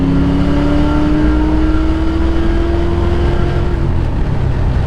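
A 1993 Mustang GT with a 306 engine swap accelerates hard nearby, its loud engine note rising steadily in pitch for several seconds over a thick, continuous roar.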